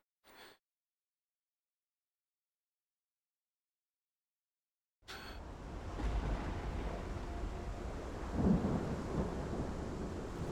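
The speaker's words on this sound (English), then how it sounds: "A tempestade já tá bem maior" A thunderstorm in the video game Life is Strange: after a brief burst and five seconds of silence, a steady roar of rain and wind sets in, with a low thunder rumble swelling near the end, and no voices.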